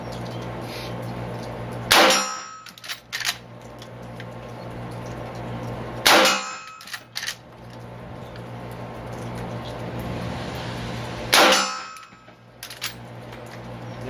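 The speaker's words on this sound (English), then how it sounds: "I'm just shooting downrange here at my range. It's some steel AR 500." Marlin 308 rounds striking an AR500 steel target downrange at a shooting range, three distinct clanging impacts spaced several seconds apart, each a sharp hit with a ringing tail over steady outdoor background noise.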